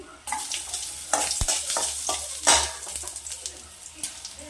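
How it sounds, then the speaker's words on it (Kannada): Ginger tossed into a hot frying pan with green chillies already in the oil, a sharp sizzle with scraping stirs and a few clinks of utensil on pan, close by and without speech. "ಇವಾಗ ಶುಂಠಿ ಹಾಕ್ತಾ ಇದ್ದೀನಿ."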